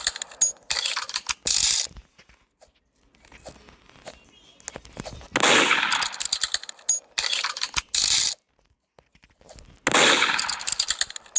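Gunfire in a 1v1 video game match comes in several loud, sharp bursts separated by quiet gaps, with faint mechanical clicks and rattles between them.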